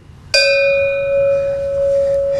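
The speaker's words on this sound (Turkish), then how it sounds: "Evet, deve çanı mı? Çok büyük bir çan o." A large camel bell is struck once, loud and close, then rings on with a long sustained metallic tone.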